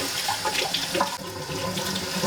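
Running tap water splashes steadily over Crystal Barbie and Ken dolls as they are rinsed, a continuous close, fairly loud gush with small shifts where the hair and plastic meet the stream.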